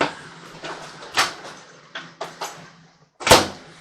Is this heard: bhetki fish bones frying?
no